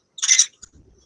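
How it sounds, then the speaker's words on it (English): Telescope focal reducer being unthreaded off a camera, one short scraping burst followed by a faint click and a soft rustle. "It's just me unthreading the focal reducer off the camera."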